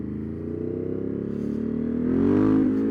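A 2024 Triumph Street Triple motorcycle engine revs close by, a buzzing tone that climbs in pitch and loudness toward the end.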